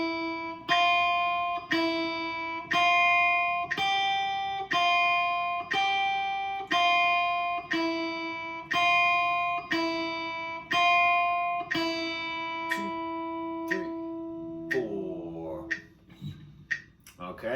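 Beginner guitar exercise played as single plucked notes at a steady 60 BPM, about a dozen evenly spaced ringing tones, clean and close, before the playing stops and some faint handling noise follows.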